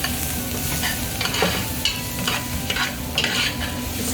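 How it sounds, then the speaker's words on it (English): Onions for a green chile cheeseburger fry slowly in a pan with a constant loud sizzle, while a utensil stirs them in intermittent scraping strokes. No voices are heard. "We're going to cook it down nice and slow so they caramelize."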